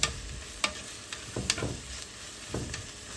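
Butter sizzles and crackles in a pan before spam goes in for fried rice, a close frying hiss broken by sharp pops and light stirring clatter.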